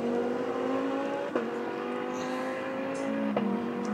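The 74 race car at the Spa 24 Hours endurance race, a sustained engine note holding high revs, with sharp gear-shift drops around the second and third-and-a-half seconds, heard from a distance, with no one talking.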